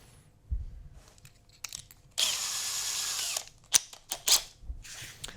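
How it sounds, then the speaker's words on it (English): A small power drill with a 4 mm bit bores a hole in wood in one loud burst of about a second and a half, with quiet handling clicks and a few short whirs before and after. "And then I've got like a smaller drill bit. I think this is about 4 mil."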